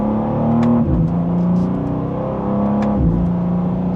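A 2025 BMW M2 in Sport Plus mode accelerating from second gear, its engine note climbing steadily and dropping sharply at each quick upshift, two clear gear changes heard close up without talk.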